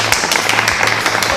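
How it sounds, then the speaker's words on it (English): Cued applause sound effect, a short burst of clapping hands with sharp repeated claps at a steady rhythm, fairly loud and close, filling the moment with no talking over it. "Cue the claps."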